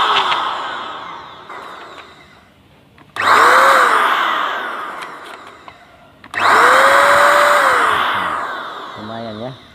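A WApro electric paint spray gun, a compressor-free sprayer, runs in two loud bursts, each a smooth hair-dryer-like whoosh that fades before the next. A voice speaks over the motor between the bursts.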